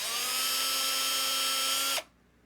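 Power drill running steadily for about two seconds while backing screws out of a desk, a loud, even high-pitched whine that cuts off abruptly into near silence.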